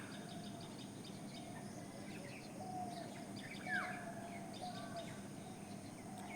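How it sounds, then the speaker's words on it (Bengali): Birds call at dawn, scattered chirps and a few brief whistled notes rising over a steady low background rumble, distant and fairly faint with no talking. "কত রকম যে জীবজন্তুর ডাক আপনি শুনতে পাবেন"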